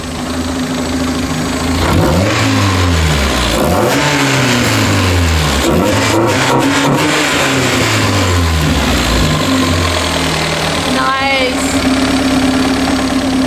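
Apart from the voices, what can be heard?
Mazda Miata engine starting and revving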